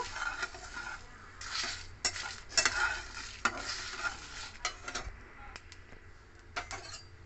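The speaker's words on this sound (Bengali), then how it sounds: "ফ্লেমটাকে স্লোতে রেখে এগুলো সব ভেজে নেব।" Whole spices are stirred dry over a low flame in a nonstick pan, making sporadic scrapes and soft rattles of seeds against the metal, close by and fairly quiet, with no voices.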